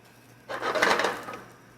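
A wooden spoon stirs Spanish rice browning in a hot pan, a single short scraping, rustling swish of grains against the pan lasting about a second.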